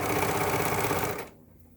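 A sewing machine hums through a quick straight seam at a steady, rapid stitch rate, close and loud, then stops abruptly near the end.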